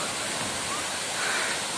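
Steady broadband rush of the Kokochang waterfall, a continuous dense roar of falling water heard from nearby, with no talk over it.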